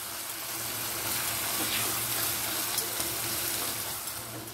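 Spices with Kashmiri red chili powder and salt fry for dal, a steady close sizzle with soft stirring scrapes throughout, no talking.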